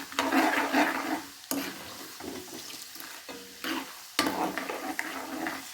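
Peanuts fry in a pan with broad, hissy sizzling broken by stirring scrapes, moderately loud and close with no talking, the stirring pausing briefly a few times.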